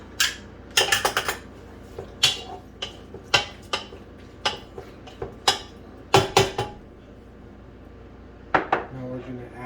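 Shrimp ceviche is stirred in a bowl, a series of close clinks and scrapes from a utensil against the dish with quiet gaps between the strokes.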